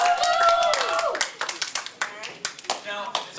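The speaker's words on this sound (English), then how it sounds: "Give yourselves a round of applause." Students clap in a classroom at the end of a summer coding intensive, with voices talking over the start before scattered, uneven hand claps take over and trail off.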